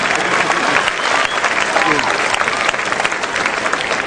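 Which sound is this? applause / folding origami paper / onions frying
applause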